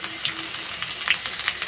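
Chopped onion goes into hot oil for a fish curry with fried potatoes, giving a brief, soft crackling sizzle with a few sharp pops nearby.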